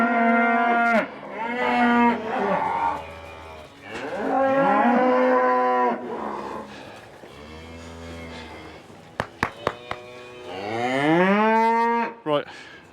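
Cattle moo repeatedly in a farm yard, several long, loud calls from near and mid distance, with a few sharp knocks in between and one more drawn-out moo near the end.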